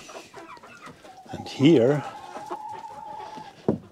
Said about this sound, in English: I've got two turkeys.